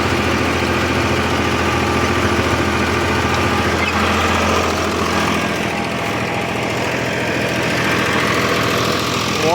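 A farm tractor running in creeper gear while clearing a tapioca field drones steadily and loudly up close, its engine note even and unbroken throughout.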